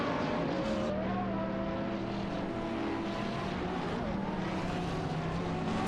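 Engines of a Ferrari FXX and a McLaren race car in a racing video game, a steady loud drone of revving motors with shifting pitch as they run close together, continuous throughout.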